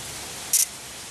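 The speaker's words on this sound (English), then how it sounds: "So that injector looks good, it's spraying good." A side-feed fuel injector from a Nissan U13 fires on a test rig, giving one short, sharp spray burst over a constant background hiss.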